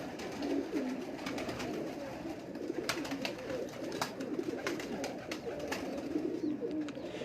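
Pigeons kept on a rooftop coo softly and repeatedly amid faint clicks and rustling, their low throaty calls forming a gentle, fairly quiet background with no speech.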